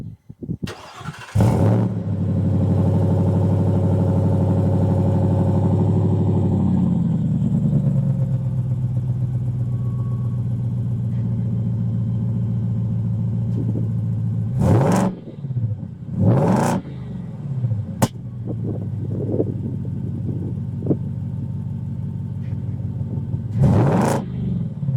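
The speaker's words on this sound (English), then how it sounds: "speaking of the exhaust, let's take a listen to that thing." A Ford F-150 Raptor R pickup's exhaust rumbles at a loud, close idle, swelling into a long sustained rev before settling, then a few sharp throttle blips punctuate the idle near the end, with no talking.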